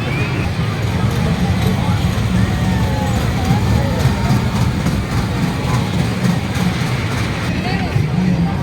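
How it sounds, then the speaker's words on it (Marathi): A steady rumble of a small dragon train amusement ride rolling along at a fair in Kalyan, with a crowd's chatter and shouts mixed in throughout. "आमची मंडळी ड्रॅगन ट्रेनमध्ये बसलेली आहेत"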